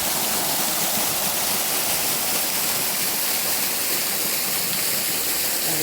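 A loud, constant roar of falling water fills the whole clip, dense and unbroken, like standing close to Thumkal waterfall in Dharmapuri.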